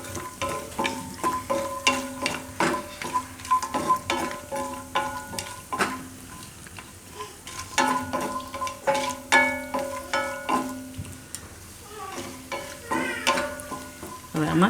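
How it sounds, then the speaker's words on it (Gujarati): Cashews roast in ghee in a pan, giving a steady sizzling fry broken by repeated clinks and scrapes of a spoon stirring against the metal, close and moderately loud with no talking. "કાજુને થોડાક ઘીમાં શેકાવા દઈશું"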